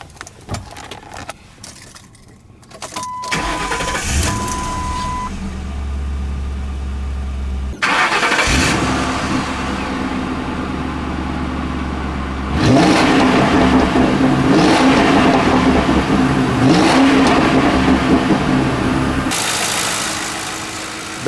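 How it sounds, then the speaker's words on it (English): A 2009 Ford Crown Victoria Police Interceptor engine cranks and starts after a few seconds of handling noise, then settles into a smooth idle, with loud revving bursts further on, heard close with no talking. "Okay, let's start her up and see what she sounds like."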